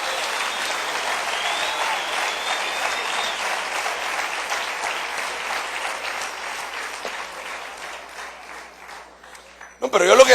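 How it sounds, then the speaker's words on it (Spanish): A crowd applauds for the king with sustained, dense clapping that runs steadily for about ten seconds, tapering slightly before a voice breaks in at the very end. "Mejor démosle un aplauso al Rey bendito"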